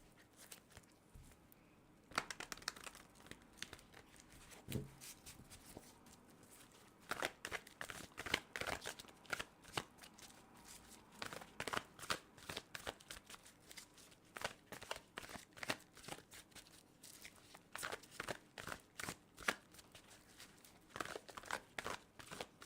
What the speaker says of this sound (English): So I'm going to shuffle this deck several times.